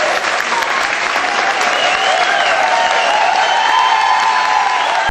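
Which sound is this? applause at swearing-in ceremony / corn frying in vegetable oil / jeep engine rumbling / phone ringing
applause at swearing-in ceremony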